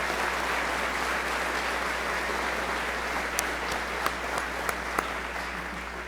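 Sustained applause from a commencement ceremony audience, a dense steady wash of clapping throughout with a few sharper claps standing out near the end, no voices on top.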